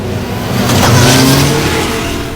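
A car drives past on a busy city street, its engine noise swelling to a peak and then easing off over about two seconds. The pass is fairly close, with steady traffic rumble underneath and no voices.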